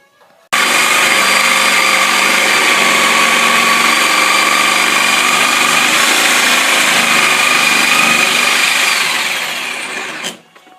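Power saw cutting steadily into a rotten wooden porch column during repair, a loud continuous whine held for about nine seconds, then tapering and stopping abruptly.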